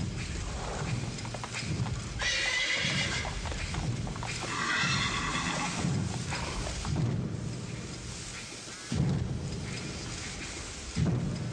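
Horses move steadily in the open with soft hoof clip-clops, under a continuous wash of rain and a low rumble, and a neigh rises briefly.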